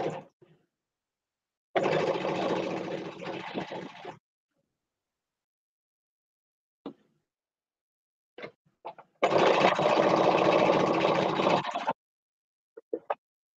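Sewing machine stitching a chain of pieced quilt blocks in two long, steady runs of fast mechanical whirring, separated by a quiet gap with a few brief clicks and handling noises.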